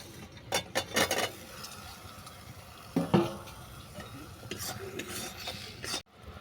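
Tamarind chutney thickening with sugar in a pan, a spoon stirring and scraping with occasional clinks against the metal and a soft bubbling sizzle, no talking.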